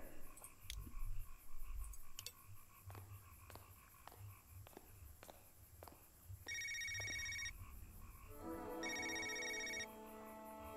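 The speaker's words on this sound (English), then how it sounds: "The phone's like ring" Telephone ringing in the adventure video game Knee Deep, regular electronic clicks giving way to repeated bright trilling rings in bursts, fairly faint over a low background hum.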